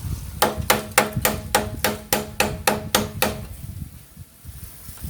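Metal tool tapping a bicycle headset nut to seat the cup set, about nine evenly spaced sharp knocks at close range, then quiet.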